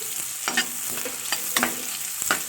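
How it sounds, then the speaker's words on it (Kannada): Two onions fry in hot oil, with soft sizzling broken by several distinct stirring scrapes and clacks of a utensil against the pan, close and fairly quiet, no voices. "ಇವಾಗ ಎಣ್ಣೆ ಕಾದಿದೆ. ಅದಕ್ಕೆ ನಾನು ತಗೊಂಡಿರುವಂಥ 2 ಈರುಳ್ಳಿಯನ್ನು ಹಾಕ್ತಾಯಿದ್ದೀನಿ."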